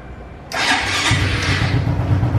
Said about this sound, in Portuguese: Vamos pro teste aqui, ver se o escapamento tem barulho legal.